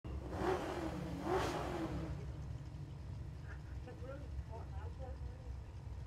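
A 1979 Chevrolet Malibu small block drag car at a drag racing event gives two loud engine surges on launch, then the roar fades into a quieter background rumble with faint voices.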